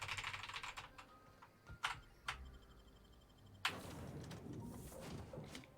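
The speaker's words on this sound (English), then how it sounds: "I'm beginning to think maybe a mechanical keyboard isn't optimal for streaming." Clicky keystrokes on a mechanical keyboard come in scattered sharp bursts, then a denser run of rapid typing, close to the microphone, with no talking.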